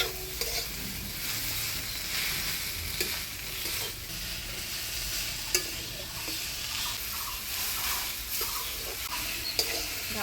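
Pumpkin leaves and cracked green chilies stir-fry in a pan, giving a continuous close sizzle. Faint scrapes and clicks of stirring recur throughout, with no voices.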